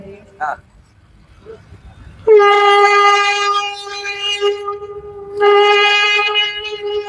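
A voice imitates a train whistle with a long, steady hooting tone, repeated twice, loud and close, with softer vocal sounds in between.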